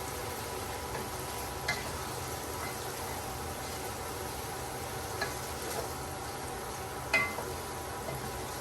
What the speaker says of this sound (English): I'm going to cook this for another 3 to 4 minutes with the pickle